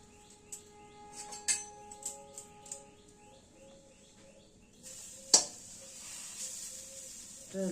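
Soft, steady sizzling as whole raw garam masala spices dry-roast in a wok, with occasional scraping stirs, while birds chirp faintly in the background.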